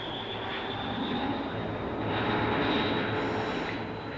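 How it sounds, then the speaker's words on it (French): A Fokker F-27 turboprop airliner begins its takeoff roll at the end of a runway on a cold day, its engines giving a steady, loud, broad roar that swells slightly toward the middle. "le F-27 commence à rouler"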